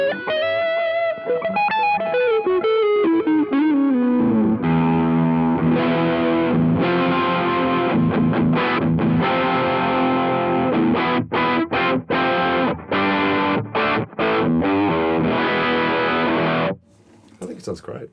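Electric guitar played through a ToneConcepts GOO distortion pedal, loud and thick with saturated sustained chords and choppy stabbed riffs, ending abruptly with a short burst of quieter noise.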